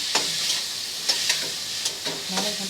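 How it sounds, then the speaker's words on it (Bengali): Mixed vegetables tossed into a hot frying pan and stirred, a steady sizzle broken by several sharp scraping strokes of the spatula, close up with no talking. "এবার যেটা মিক্সড করা ছিল সবজিগুলো সব দিয়ে দেবো, দিয়ে মিক্স করে রান্না হবে।"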